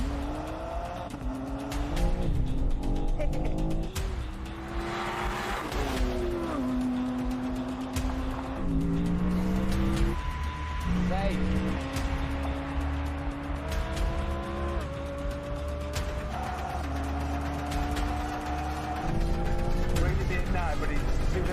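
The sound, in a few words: BMW M3 CS Touring and Audi R8 GT standing drag race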